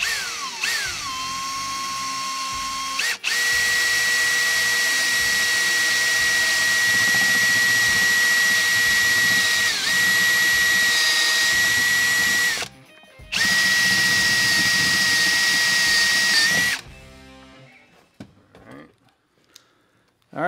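A power drill bores into a Ford Bronco to mount a trailer brake controller switch, whining loud and steady for long stretches with a brief pause, then winding down and stopping.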